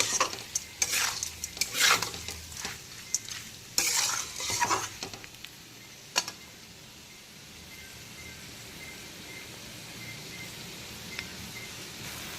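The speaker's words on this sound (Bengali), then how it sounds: "এখন আবারও 3 থেকে 4 মিনিট সময় নিয়ে সমস্ত কিছু খুব ভালো করে কষিয়ে নিলাম মশলার সঙ্গে" Banana flower and spices sautéing in a pan over medium to high flame, with bursts of vigorous stirring and scraping over a steady sizzle; the stirring stops after a few seconds, leaving only a quieter frying hiss.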